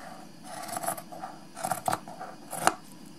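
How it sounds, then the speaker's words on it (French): Scissors snip a cord for cotton newborn mittens, making three short crisp cuts close by in a quiet room. "On va avoir une belle longueur de cordon et je coupe sur 1 cm."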